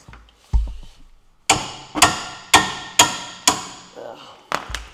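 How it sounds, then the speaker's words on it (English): Sharp metal hammer blows strike a CV axle on a 2011 Dodge Durango in a repair shop, about seven loud, evenly spaced impacts, each ringing briefly before the next, with no speech over them. "There's that hammer."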